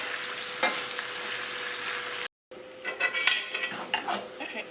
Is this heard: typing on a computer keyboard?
no